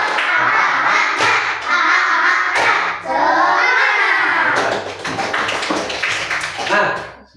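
A school class claps rhythmically together in repeated bursts, mixed with loud group chanting voices in a classroom.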